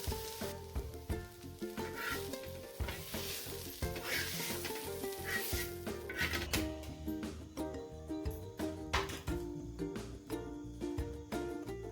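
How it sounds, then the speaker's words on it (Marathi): Half a bowl of dry coconut roasts on the same griddle used for the onions, a continuous close sizzle with constant scraping and rhythmic stirring strokes; no voices. "आपण हे खोबरं पण छानपैकी भाजून घेणार आहोत"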